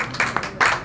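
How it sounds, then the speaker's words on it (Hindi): Scattered hand claps ring out at an arts award ceremony honoring Hyderabad artists, a few uneven bursts of clapping close by rather than a full sustained ovation. "सर तालियां हो गए थोड़ा।"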